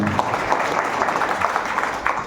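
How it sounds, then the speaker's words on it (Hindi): Dense, sustained applause from a large seminar crowd, even and loud throughout. "एक बार जोरदार और जबरदस्त ताली"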